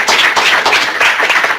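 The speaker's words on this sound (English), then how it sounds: "Give a round of applause to Naomi." A small meeting group breaks into a round of applause for a colleague, dense close hand clapping that runs steadily and loud with no talk over it.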